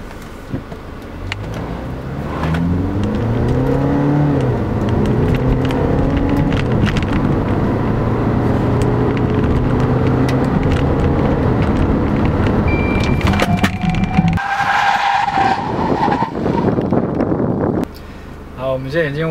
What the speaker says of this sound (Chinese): 然后我们现在就开始测0到100、